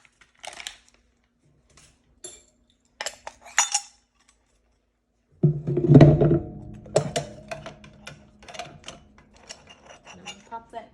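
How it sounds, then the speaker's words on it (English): Metal lid of a coffee percolator being set and fitted in a home kitchen, heard as scattered light clinks, then a louder cluster of clattering metal contacts and small knocks, close and fairly quiet. "Put my lid on."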